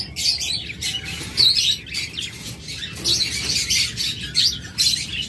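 At a bird sale, a cage of cockatiels and lovebirds keeps up shrill, overlapping chirps and squawks in close, irregular bursts with no talking.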